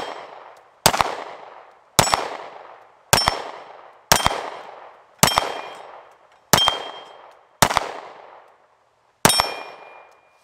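Eight one-handed pistol shots from about 8 yards ring out in an irregular string, each followed by a metallic clang of a hit on 8-inch steel plates, loud and close with no talking.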